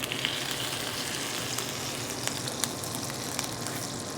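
A walleye fillet sizzles steadily in a hot pan, a dense crackling hiss with small spattering pops throughout, fairly soft and close with no talking.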